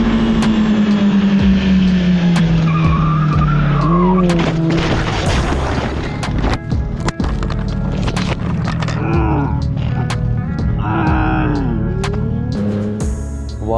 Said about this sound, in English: he loses control on the bend and falls to the ground